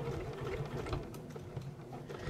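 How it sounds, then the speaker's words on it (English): A sewing machine stitches in the ditch on a fabric hexi pouch, a steady fast mechanical whirr with a regular needle rhythm, close and fairly quiet, running alone without talk. "so I'm stitching in the ditch"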